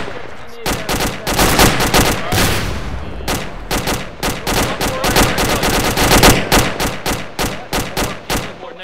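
Automatic gunfire with tracers in the Arma 2 video game: long, loud, rapid bursts of shots in quick rhythm, broken by brief pauses, close and dominant with no clear talking.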